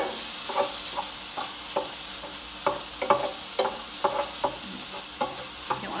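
Ground beef for an Italian ziti sizzles steadily in a pan while a spoon stirs it, the close scraping strokes coming in a loose repeating rhythm over the constant frying hiss.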